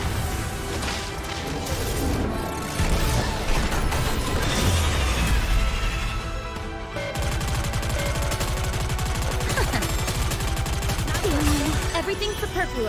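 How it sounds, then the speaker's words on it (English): Large, colorful explosion effect in the video game Goddess of Victory: Nikke, a dense barrage of booms, crashes and gunfire-like bursts layered under music and game sounds for the whole stretch. "That large, colorful explosion is actually Dorothy."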